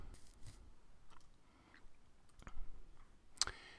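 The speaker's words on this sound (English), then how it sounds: "I'm going to click the new project button in the toolbar" A computer mouse gives a few faint, sharp clicks at irregular intervals while someone works in a coding IDE, in a quiet room.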